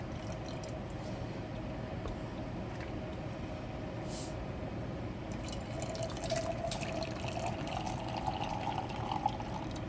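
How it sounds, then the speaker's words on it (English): Brewed chai tea trickles and drips through the strainer part of a kitchen ladle, a soft, continuous pouring and splashing of liquid at low volume, growing slightly busier toward the end. "I'm going to use our ladle that has the straining part on it, so any tea that did come out will go through the strainer part"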